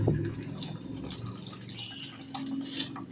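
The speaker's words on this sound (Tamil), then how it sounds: "இப்போ புளி தண்ணியை ஊற்றிக்கிறலாம்." Tamarind water poured into a Thoothukudi-style mathi (sardine) fish curry, a short close liquid trickle and splash with a few drips, steady and fairly quiet.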